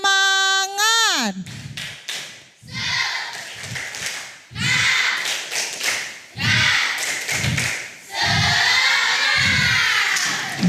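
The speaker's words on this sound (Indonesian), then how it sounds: "Tepuk semangat." Classroom children perform a rhythmic spirit clapping chant, group claps and thumps landing in a steady patterned beat with voices chanting between and over them, opening after a brief tonal sweep.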